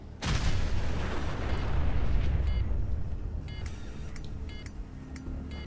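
A heavy gun fires in the distance in Fallout 4: one deep boom, then a long rumbling roll, and later a few fainter thuds. No one speaks.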